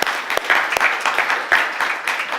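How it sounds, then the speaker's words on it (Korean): A church congregation at a Sunday anniversary thanksgiving service in Houston gives a short burst of steady applause, dense and close, with no talking over it. "우리 다시 한번 정말 건강하게 다시 잘 감사하다 박수 한번 보내주시면 감사하겠습니다."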